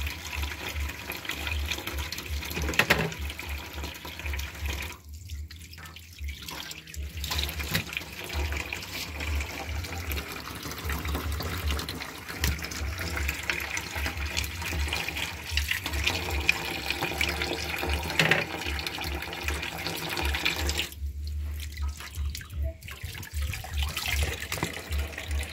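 Steady running water from a tap, draining fish in a home kitchen, continuous and fairly close with brief dips, no talking.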